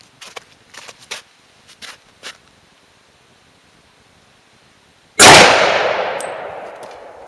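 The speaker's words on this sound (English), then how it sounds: "Shooting it through the chronograph." A single sharp, loud gunshot from a Glock 20 firing a 115-grain Hornady XTP 9x25 Dillon round through a chronograph rings out and decays slowly, preceded by a few faint handling clicks.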